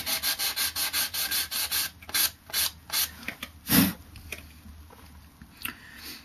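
Hand sanding of wooden knife handle scales on a Mora knife blank with 180 grit sandpaper: a steady run of close, rhythmic rasping strokes, then slower, irregular scrapes with pauses, fading toward the end.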